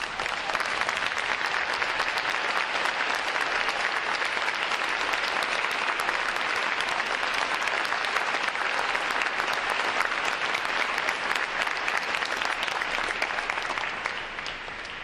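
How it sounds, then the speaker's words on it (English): Sustained, loud applause from a large audience at a Navy recruit training graduation ceremony, honoring standing veterans; dense steady clapping fills the whole stretch and eases slightly at the very end. "Let's give them a round of applause"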